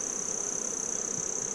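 Honey bees buzzing at a hive, a steady dense hum of many insects close by, quiet but continuous through the short moment.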